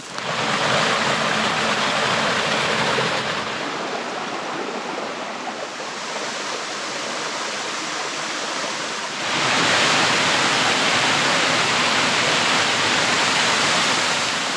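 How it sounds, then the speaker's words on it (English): A big waterfall roars as a loud, steady broadband rush heard from fairly near in overgrown fern bushland, swelling slightly louder toward the end, with no talk. "I can hear a big waterfall over there"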